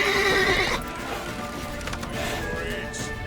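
A horse in The Witcher 3 gives a loud, shrill whinny up front that breaks off sharply, followed by lighter hoof clatter and game ambience.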